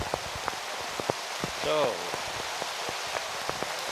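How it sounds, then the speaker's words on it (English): Steady rain patters down at a cricket ground, a broad hiss with scattered drop hits close by, while a voice speaks briefly over it. "of course it's raining"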